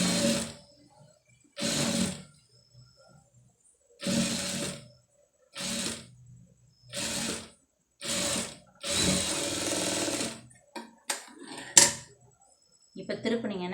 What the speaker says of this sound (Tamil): இப்போ இதை வந்து கரெக்டாக லைனிங் பீஸ்லேயே வந்து ஒரு தையல் போட்டுங்க.